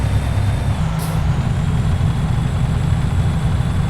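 An International LoneStar truck with a Cummins engine and the jake brake on, in American Truck Simulator, gives a loud, steady, low engine drone that runs unbroken and close throughout.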